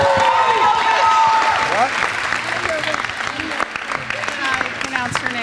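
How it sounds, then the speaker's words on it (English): An audience at a story slam applauds a third-place finalist with dense, sustained clapping that fades a little toward the end. Loud speech runs over the start of the applause. "How about let's give a round of applause for our third place finalist, Jason Anajovic."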